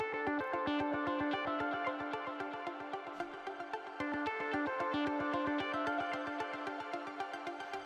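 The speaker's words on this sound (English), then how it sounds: "I've also included a lot of little plucky sounds on each channel" Short plucky synth notes from a synthwave remix fire in a steady, fast rhythm with an opening filter, layered over sustained tones and alone without talk.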